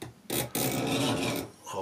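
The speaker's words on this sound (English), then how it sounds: "until I create a groove in the piece that I'm sawing" A hand saw draws back and forth across a piece of wood to cut a starting groove, giving a short rasping stroke followed by a longer gritty pass, close and fairly clear.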